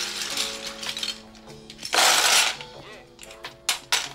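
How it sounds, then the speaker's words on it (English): Mechanical keyboard parts for a Praxis build are handled close by, giving a run of small clicks, taps and clacks with a louder burst of rattling in the middle and sharp knocks near the end. "I guess this is keyboard ASMR."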